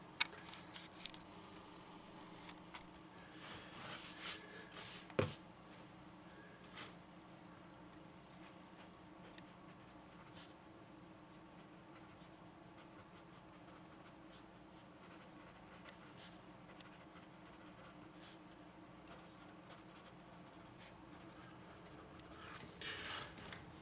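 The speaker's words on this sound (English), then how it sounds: "So this is your basic number 2 pencil. Now let's see how it writes." A basic number 2 pencil writing on drawing paper with a toothy surface: continuous soft scratching strokes with a few sharper taps near the start, close and quiet, no talk.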